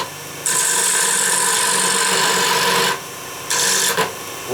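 A 5/8 gouge cuts spinning wood on a lathe with a tail stock steady, producing a loud, sustained hissing scrape in two long passes separated by a short pause, over the lathe's steady hum.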